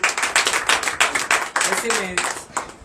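A church congregation at morning prayer claps in acclamation, sharp rhythmic hand claps in a quick regular beat, loud and near, with a voice briefly heard during the clapping.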